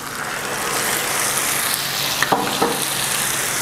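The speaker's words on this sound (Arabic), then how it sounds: "اقلب الطماطم مع البصله كده" Tomatoes and browned onion frying in a hot pan, with a steady close sizzle filling the whole clip and a few brief knocks and scrapes of stirring near the end.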